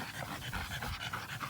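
A blue tri-colour French bulldog pants steadily and close by, with quick rhythmic breaths running through the whole stretch and no talk over it.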